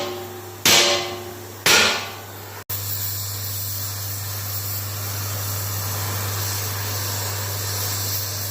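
Two loud, sharp hammer blows strike a heated metal skid for a Topper rebuild, each ringing briefly, followed by a steady hiss and low hum.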